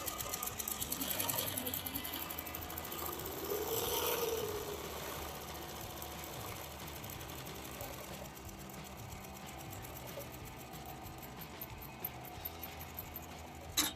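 An upholstery sewing machine runs steadily, stitching tuck-and-roll material for a Model A coupe seat, its mechanical whir continuous through the clip with a few small clicks and a brief louder burst near the start.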